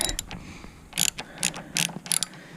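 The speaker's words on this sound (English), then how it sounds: "loosen this bolt, which has an Allen key on the other side" A ratchet wrench loosening a bolt on snowmobile steering, with several short bursts of rapid metallic clicking separated by brief pauses, close and crisp, with no talking.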